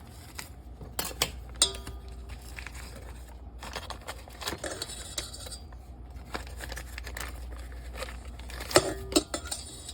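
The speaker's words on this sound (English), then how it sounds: "So I'm basically going to just cut this into chunks and put it into my mixer here." A stick of soft butter is cut into chunks and dropped into a mixer bowl. Scattered clinks, taps and knife clatter come up close over a low steady hum, irregular and sharp, with no voices.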